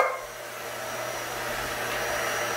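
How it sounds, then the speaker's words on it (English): A vacuum cleaner runs continuously with a steady whooshing hum, fairly close and constant for the whole stretch, no voices. "Let's see the vacuum."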